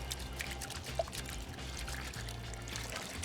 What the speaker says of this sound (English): So the first rinse is a vinegar rinse to stop the action.